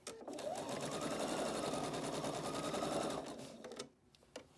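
A sewing machine stitches a scrub-style skull cap hat in one steady, close, motorized run of about three seconds, then stops, leaving faint handling noises.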